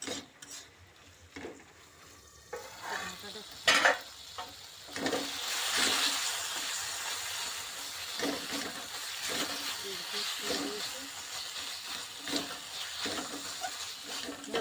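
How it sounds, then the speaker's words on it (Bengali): Spice masala with tomato being sautéed in a pan, a steady hissing sizzle with occasional stirring scrapes, close by, with brief talk early on. "টমেটোটা দিয়ে আরও কিছুক্ষণ কষিয়ে নেব"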